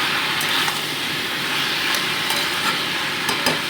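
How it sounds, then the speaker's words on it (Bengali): Spices with salt and turmeric sizzle and fry in a pan while being stirred, a steady, close hissing broken by light scraping clicks of a spatula, with no talk. "দিয়ে মোটামুটি এটাকে আরও 2 মিনিট ধরে কষিয়ে দিচ্ছি।"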